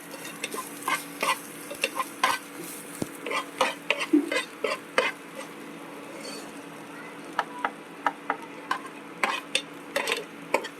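Grated ginger sautéed and stirred in a pan, a soft background sizzle broken by frequent close spoon clicks and scrapes against the metal in an irregular rhythm, with no talking.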